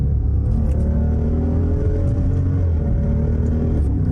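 A V8-powered Mopar car pulling along in fourth then third gear, a loud steady low engine rumble heard from inside the cabin, continuous and close.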